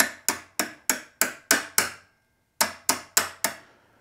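A steel-braided brake line fitting on a Suzuki DR650 motorcycle being tapped loose: ten sharp, evenly spaced metallic taps in two bursts with a short pause between, close and crisp, no talk.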